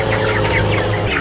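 Broiler chickens cluck and chatter close by in a pen, several birds at once in a brief, busy burst with a low hum underneath.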